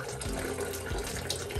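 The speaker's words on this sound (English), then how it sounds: "to put the water back into the enclosure here, and we're trickling it down" Water trickling from a siphon into a reptile enclosure, a soft steady splashing flow with gentle bubbling, close and quiet, with no voices.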